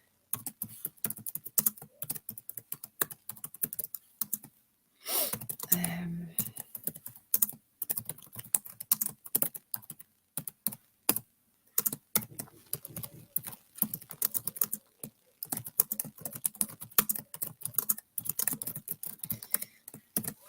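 Rapid, irregular bursts of typing on a computer keyboard, close and fairly quiet, with a brief pause partway through and faint speech-like sound in the middle.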